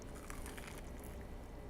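Crunchy bites into fried oyster mushrooms, a dense crackly chewing crunch close to the mic lasting under two seconds, with no talking.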